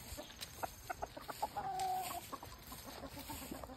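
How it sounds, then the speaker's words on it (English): Leghorn chickens cluck in short, scattered bursts nearby, with a longer drawn-out call in the middle over a quiet outdoor background. "Now we'll go check on this leghorn and his hen."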